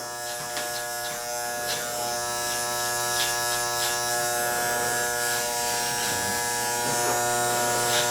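Electric hair clippers hum in a steady, close buzz as a barber tapers a client's neckline, running without a break throughout with no speech over it.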